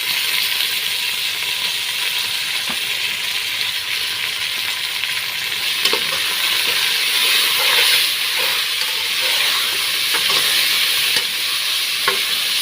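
Raw prawns frying with spices in a pan, a continuous bright sizzle and hiss with occasional stirring clicks and scrapes, close and fairly loud throughout, no talking.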